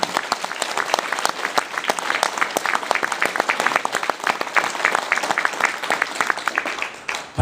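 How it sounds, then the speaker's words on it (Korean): A lecture audience in Seattle gives sustained, dense applause at a Korean unification talk, with many hands clapping steadily and loudly throughout before it tapers at the very end. "열심히 일어나고 박수 한번 힘차게"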